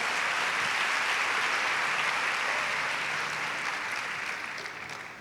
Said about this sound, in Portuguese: E você, pode dar uma salva de palmas,